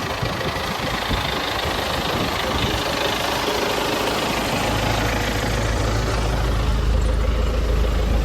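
A tractor engine idles steadily up close, a loud rumbling drone that deepens and grows heavier partway through.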